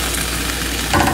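Ham steak with pineapple and brown sugar sizzles loudly in a pan over a high flame, a steady close-up frying crackle.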